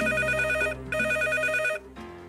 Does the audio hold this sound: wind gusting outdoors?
no